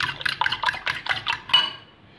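Fork whisking eggs together in a bowl, a quick run of rhythmic clinking scrapes, about eight strokes close up, tapering off at the end.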